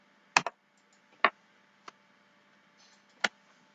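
A computer mouse clicks four times at uneven intervals, sharp close taps, the first a quick double click, set against a quiet room hum.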